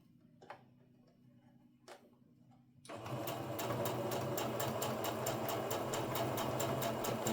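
After a couple of soft clicks, a sewing machine starts stitching quilt block pieces together, running steadily up close with an even, rapid mechanical ticking rhythm that continues to the end.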